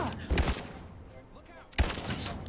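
Gunshots in the video game Detroit: Become Human, two sharp loud bursts about a second and a half apart, with a quieter stretch of game ambience and faint voices between them.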